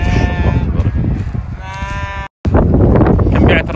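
Sheep bleat loudly and repeatedly, with drawn-out nasal cries, over dense crowd noise at a sheep auction in the Hafar Al-Batin livestock market. The din cuts out for a moment, then resumes.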